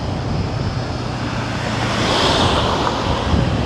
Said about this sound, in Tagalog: Ayan guys, yung waterfall. Tingnan nyo. Makikita pala dito yung waterfall.